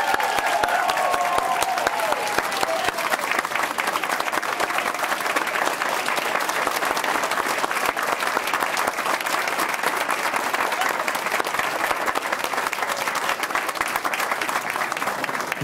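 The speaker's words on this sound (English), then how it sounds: "Can we give a round of applause for our Employee Excellence winner?" A board-meeting audience applauds an employee excellence winner with sustained, dense clapping that stays loud and even for about fifteen seconds, with faint voices and a brief cheer early on.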